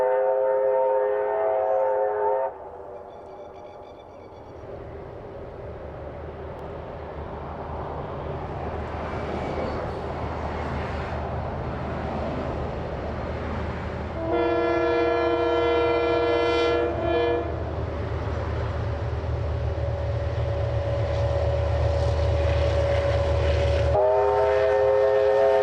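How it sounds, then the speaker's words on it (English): A train nearing the town of Waikanai sounds repeated long chime-like horn blasts and whistles, with a steady rumble of moving rail cars between the blasts and no voices. "The evocative sounds of horns and whistles echoed through the morning as the train neared the town of Waikanai."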